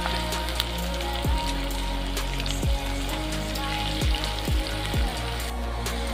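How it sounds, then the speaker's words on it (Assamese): Garlic, ginger and green chillies fry in a pan with a steady, dense sizzle, broken every second or so by a short falling swish. "এইখিনি অকণমান ভাজি ল'ম।"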